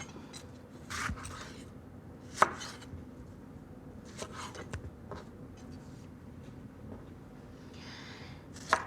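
A knife cutting tomatoes on a cutting board in a home kitchen, sparse crisp chops and taps spaced irregularly, with quiet pauses between strokes.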